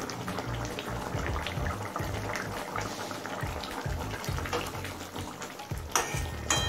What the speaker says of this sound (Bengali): ভাজা ছানাটা দিয়ে নেড়ে চেড়ে গ্রেভির সাথে মিশিয়ে নিয়েছি।